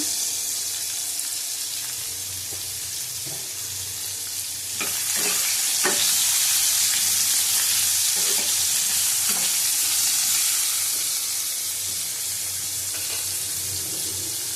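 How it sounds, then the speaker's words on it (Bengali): Drumsticks and pointed gourd pieces fry in oil in a pan with a loud, continuous hiss that swells halfway through, while a spoon scrapes and taps against the metal a few times during stirring. "সজনে ডাঁটা দিলাম, আবার ভালো করে ভেজে নেব।"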